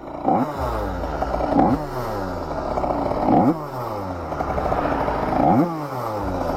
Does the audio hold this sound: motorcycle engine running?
yes